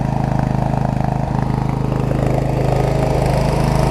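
John Deere 165 hydrostatic lawn tractor engine running close and loud, a steady, even throbbing idle with a smooth rhythmic pulse throughout.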